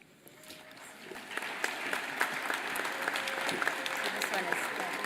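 A graduation audience at a school diploma ceremony claps steadily throughout, a dense moderate applause from a crowd in an indoor or outdoor venue.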